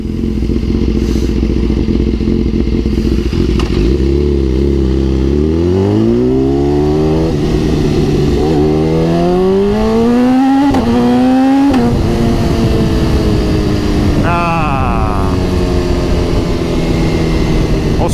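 A BMW S1000RR motorcycle engine idles loudly, then revs up in repeated climbing pulls with rising pitch, drops back, and gives another sharp rev near the end, close and dominant throughout.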